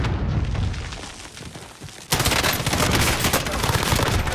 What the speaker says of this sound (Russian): Размещаю взрывчатку